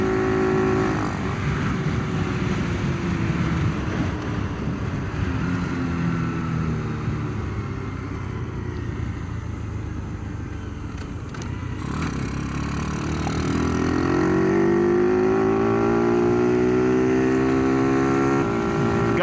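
A Honda Grom clone motorcycle with a 26 mm carburetor rides at night on humid small-town roads in Kansas, its small engine droning steadily up close, dipping midway, then rising again as it revs back up.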